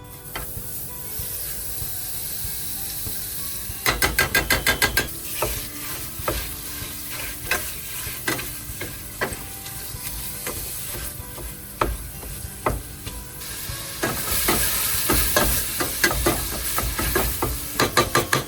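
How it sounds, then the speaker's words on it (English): Constant sizzle of about half a pound of chorizo frying in a skillet, with repeated scraping and stirring clicks from a utensil, close and steady throughout. "into the skillet, I'm going to put about a ½ pound of this chorizo and get it cooking"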